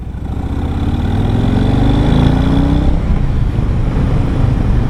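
2020 Harley-Davidson Low Rider S motorcycle engine while riding, a loud, close, throbbing V-twin rumble that rises in pitch as the bike accelerates, then eases and settles, heard alone without talk.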